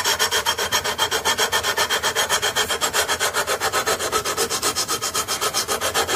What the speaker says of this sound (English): wear down the extreme scratches with this sanding beam now